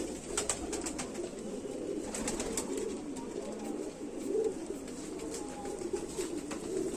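Rampuri pigeons cooing steadily up close, soft repeated murmuring calls under a constant hum of background noise, with no talking.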